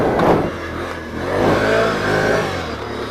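A 2016 Can-Am Outlander L 500 V-twin ATV climbs a hill in a wheelie, its engine revving loud and close, swelling and easing in a few throttle surges.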